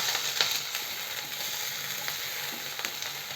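Onion and spices sautéing in a pan for roadside masala poori, a steady close sizzle and frying crackle throughout with no talking.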